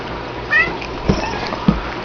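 Domestic cat meows once in a short, slightly faint call around a room where a white German Shepherd pup is trained, followed by a couple of soft thuds.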